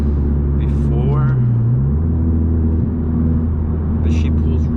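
A straight-piped 2021 Honda Civic FK7 hatchback with a Skunk2 exhaust rumbles steadily while driving, a loud low drone that continues throughout, with someone talking over it.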